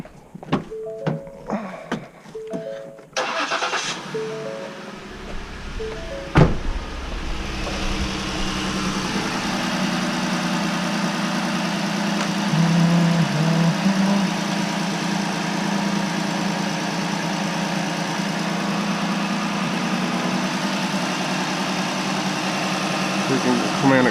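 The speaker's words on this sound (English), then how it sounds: "Engine running. Start the truck." A truck engine cranks and starts a few seconds in, then settles into a steady, moderately loud idle that runs on with a low rumble; short beeping tones sound before the start.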